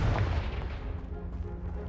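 Confringo blasting curse detonating in Hogwarts Legacy, a loud booming explosion that starts hard and rolls into a sustained rumble and crackling debris tail lasting nearly two seconds.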